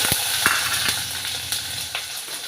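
Mustard seeds, cumin and green chillies sizzle steadily in hot oil for an Indian curry, a close crackling hiss with small pops and occasional stirring clinks, no voices.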